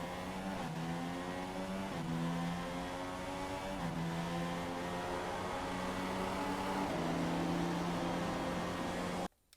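Race cars in a Russian GP racing video game roar steadily around the track, their engine notes rising and dropping in pitch with each gear change, loud and continuous throughout.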